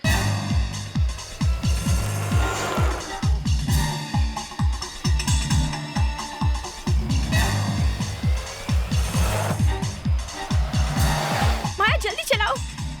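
A car is driven fast while fleeing pursuers in a Hindi crime drama, with a loud continuous engine roar, rhythmic thumping and tire noise throughout and dramatic music layered over it.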